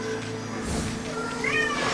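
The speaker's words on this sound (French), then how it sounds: "Il y a mon chat qui miaule là," A domestic cat meows once in the room during an Okami gameplay session, a drawn-out meow rising and falling over game sounds.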